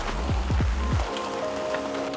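Heavy pouring rain drums steadily on surfaces outdoors, a dense, continuous patter with a few low thuds early on and no voices.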